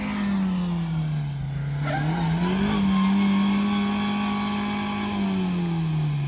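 A Mercedes G-Wagon engine revs hard and steadily, its loud low drone rising and dipping in pitch as the throttle is held and eased, close and continuous throughout.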